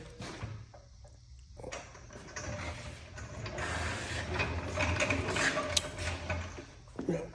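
A heavy car subframe from an Acura RSX is dragged across a concrete garage floor, a steady close scraping and grinding that grows louder toward the end, with knocks and rattles.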